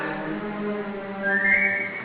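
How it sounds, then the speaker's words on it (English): Someone whistles to call a dog before setting off on a ramshackle sleigh: a steady, sustained whistle over a continuous tonal orchestral background, rising near the end. "he whistled for Max"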